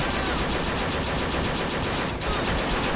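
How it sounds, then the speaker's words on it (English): Sustained machine gun fire in the video game Men of War: Assault during a Battle of Iwo Jima airfield fight, a dense, continuous rattle of gunfire with no pauses across the whole stretch. "Japanese have a machine gun there."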